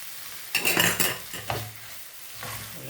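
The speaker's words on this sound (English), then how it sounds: "Now we're gonna mix that up." Corned beef pie filling made with canned corned beef is stirred in a pan. A spoon scrapes and clatters against the metal in a few separate bursts over a soft sizzle, and nobody speaks.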